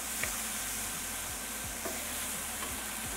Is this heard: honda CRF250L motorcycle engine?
no